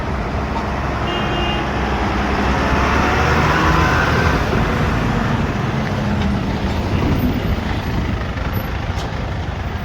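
Dense, loud roadway traffic rumbles without pause as trucks, cars and buses pass close by, a continuous broadband roar with faint horn toots.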